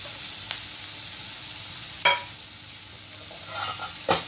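Cauliflower and its leaves with green chilies frying in a pan, a soft continuous sizzle broken by a few sharp scrapes and clatters of a spoon stirring, close by.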